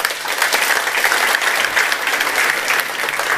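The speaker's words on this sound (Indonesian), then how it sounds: "Tepuk tangan dulu." Steady, dense applause from a church congregation at a worship service, loud and continuous with many hands clapping together and no pause.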